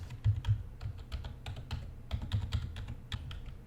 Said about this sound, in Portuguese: Tá, eu apertei todas as teclas que não são F